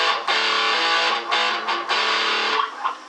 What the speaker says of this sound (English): So let's kick on some distortion here.